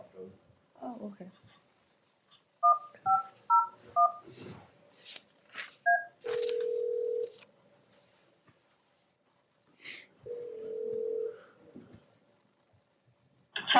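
Telephone dialing tones from a speakerphone in a county commissioners meeting: a quick run of short DTMF beeps, then two long ringback tones separated by a pause, with people talking and room noise in between.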